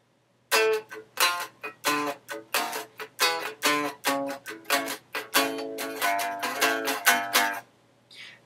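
A series of plucked guitar double stops played in a steady, slow rhythm, each ringing briefly before the next, close and clear with no talking; a slowed riff from a song.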